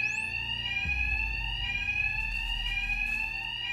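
A steady electronic alarm blares continuously in Batman: Arkham Knight, a loud high-pitched tone with strong harmonics holding without pause over low rumbling game ambience.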